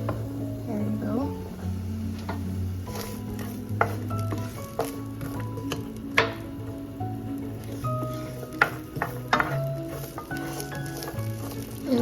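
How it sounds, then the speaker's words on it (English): Onions and beef frying and sizzling in a pan while being stirred and mixed, steady close sizzle with clinks and scrapes of the utensil, and a voice speaking over it at times. "I'm just gonna cook this until the onions are translucent. I added the beef. And then I'm gonna keep mixing it."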